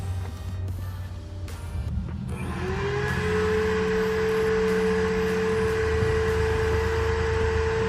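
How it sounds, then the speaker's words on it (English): A vacuum cleaner runs in the background while a car radio is being installed, its motor starting up and rising into a steady, loud whine that holds continuously to the end. "Sorry for the vacuum in the background"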